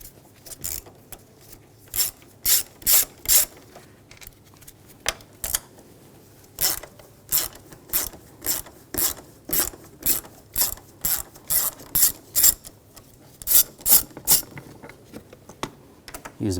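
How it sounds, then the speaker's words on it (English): A ratchet with a 10mm socket clicks in quick bursts as bolts come out on a 2007-2013 BMW X5 3.0L inline-six, the sharp ratcheting repeating in separate clusters with short pauses between them, close and alone. "there's two bolts over here, use a 10mm socket,"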